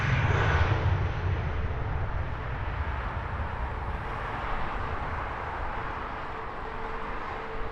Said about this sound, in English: Enjoying those planes.